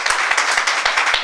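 A small audience at a football talk event in a book museum claps briefly, the individual hand claps sharp and close, forming a quick, fairly loud round of applause.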